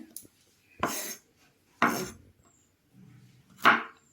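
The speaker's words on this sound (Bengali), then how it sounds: "প্রথমে আমি ঢ্যাঁড়সটা কেটে নিচ্ছি।" A knife cuts okra (bhindi) into pieces on a board, giving three sharp, close chops spaced about a second apart with quiet gaps between them.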